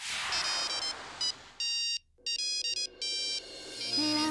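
An electronic ringtone plays in repeated tonal bursts, bright and close, with brief pauses between the chiming phrases.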